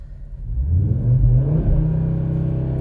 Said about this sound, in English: I'm going to start giving it gas now.